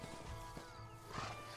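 A horse in the Western video game Red Dead Redemption, with rhythmic hoof thuds and clip-clop close by over a steady game ambience, with no talking.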